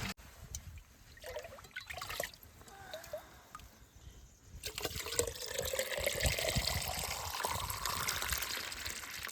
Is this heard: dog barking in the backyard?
no